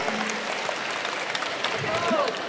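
An audience at a university orientation lecture claps together, a dense wash of applause from many hands heard through continuous speech over it.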